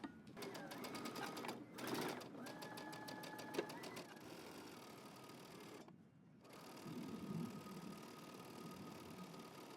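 A sewing machine stitches dress fabric in steady whirring runs with brief pauses, loud and close, with no talk over it.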